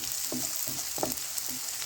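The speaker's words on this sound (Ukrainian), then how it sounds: "Цибульку смажу до того, поки з'явиться характерний аромат" Onions sizzle and crackle in a hot oiled pan, a steady frying hiss with a few brief stirring scrapes mixed in.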